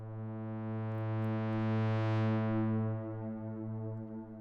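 A sustained synth pad holds a rich harmonic chord, with its reverb tail's high end filtered away so the top gradually dulls while the body rings on smoothly and evenly, no talking over it.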